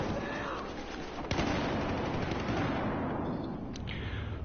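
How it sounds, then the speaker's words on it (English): Machine gun fire in Battlefield 4 rattles in rapid bursts amid a dense, noisy battlefield din, with one sharper crack standing out partway through. "hostile machine gun"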